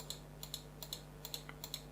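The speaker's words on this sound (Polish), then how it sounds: "Też klika intensywnie, czujemy, że został naciśnięty i dość twardy ten klik jest" Hard, distinct clicks from the DPI button on an SPC Gear Gem Plus gaming mouse, about eight sharp presses in a steady rhythm, close and alone over a faint background hum.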